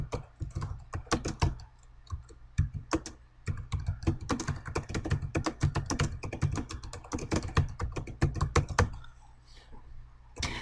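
Text is typed on a computer keyboard in quick bursts of close, crisp key clicks, with a few short pauses and a quiet stop near the end.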